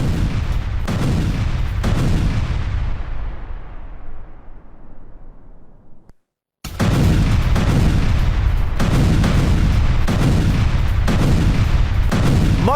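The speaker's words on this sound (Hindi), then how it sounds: "हिजबुल्लाह के 2 ठिकानों पर भीषण एयर स्ट्राइक।" Israeli air strike on Hezbollah positions in Lebanon: repeated heavy booming blasts, loud and close, each rumbling away, with a long fading tail, a sudden cut to silence, then a rapid series of explosions resumes.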